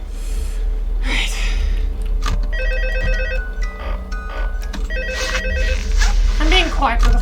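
Repeated electronic telephone rings in Five Nights at Freddy's 2, sounding in short patterned bursts over game noise, with a voice talking and breathing audibly in between.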